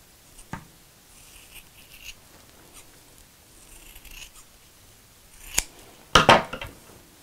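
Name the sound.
scissors cutting out felt dinosaur legs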